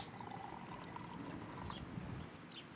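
Staghorn sumac tea poured out of a container, a soft, close, continuous trickling splash lasting a few seconds, faint and alone.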